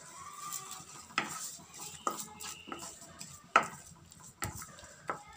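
A spoon stirs ground tomato paste in a cooking pan for chickpea kurma, giving a string of sharp metallic taps and scrapes against the pan at irregular intervals over a faint wet bubbling, close up with no voices.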